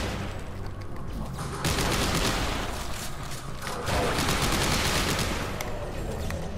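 Sustained gunfire in Dead Space 3, dense rapid bursts of shots that rise into a louder continuous barrage partway through, with no talking over it.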